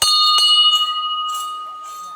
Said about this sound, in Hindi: दिस इज़ आवर घंटा।